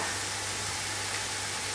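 Capsicum stir-frying in a hot pan, giving a steady, even sizzle that holds close and constant from start to finish with no voices over it.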